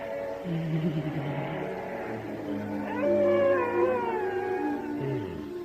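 A person in a radio drama growls and snarls like a cat, producing a sustained, wavering vocal rumble with rising, yowling tones that swell louder midway, imitating a caterwauling cat against a quiet background.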